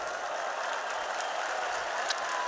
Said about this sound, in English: See, a nice warm round of applause.